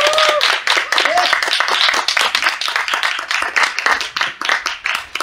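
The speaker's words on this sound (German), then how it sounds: "jetzt begrüßt mit einem kräftigen Applaus die nächste Poetin hier auf der Bühne" An audience at a youth poetry slam festival claps loudly and continuously, a dense close patter of many hands with a few whoops near the start, tapering slightly toward the end.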